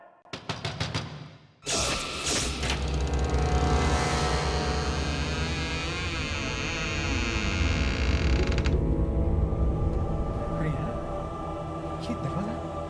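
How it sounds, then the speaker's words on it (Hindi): Door creaking open slowly on its own in a dark house during a Hindi horror scene, a long drawn-out creak after a sharp knock, with background music and ambience around it. "ये दरवाजा अपने आप कैसे खुल गया है?"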